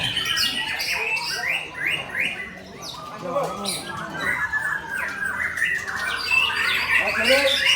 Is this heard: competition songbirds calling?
yes